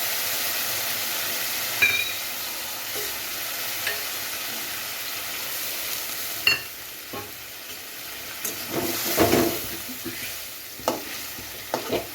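Water goes into a pan of frying bata fish curry, a Bengali macher jhol. A soft, continuous sizzle and bubbling carries light stirring clinks, and the hiss rises into louder bursts toward the end.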